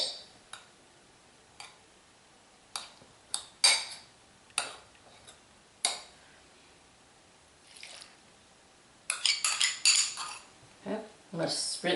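A bowl holding a homemade coconut oil liquid soap mixture is handled in a kitchen, giving scattered light clinks and taps of utensil on bowl with quiet pauses, then a brief burst of clattering near the end.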